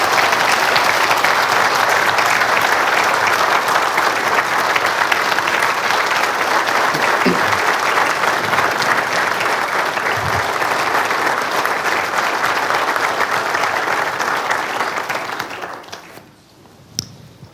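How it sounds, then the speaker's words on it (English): A big round of applause for city police and fire departments at a State of the City address: dense, loud, sustained clapping from a large crowd that holds steady for about fifteen seconds, then fades out. "let's give both of these departments, police and fire, a big round of applause."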